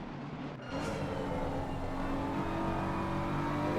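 BMW race cars lapping Imola in a sim racing game, a steady high engine drone with a brief dip near the start, then a sustained loud whine.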